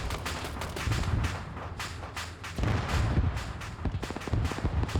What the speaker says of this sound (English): He just fired again. Second tow missile.